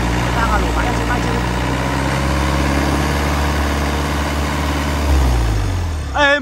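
A Yanmar 4TNV98 62 kW diesel engine idles with a steady, loud, low rumbling drone that holds even throughout, and a brief voice is heard near the end.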